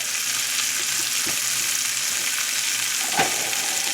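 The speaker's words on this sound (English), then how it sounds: "And we're just going to sear" Loud, continuous sizzling of a beef roast searing in a hot buttered pan, a dense hiss with a brief clatter near the end and no talk.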